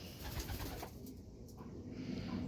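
Pet pigeons or doves in a loft give a low, continuous cooing murmur with soft rustling, steady and close throughout, with no voices.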